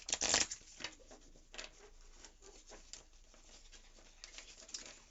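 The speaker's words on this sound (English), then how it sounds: "I'm going to go ahead and shuffle the deck" A deck of tarot cards being shuffled by hand, heard as quiet, soft papery riffles and brushing bursts that come in uneven clusters, with a sharper flurry at the start and no voices.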